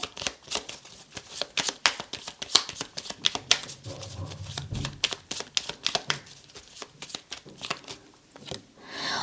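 A deck of tarot cards is shuffled by hand close up, producing repeated crisp riffling flicks and soft slaps in an uneven rhythm, alone without talk.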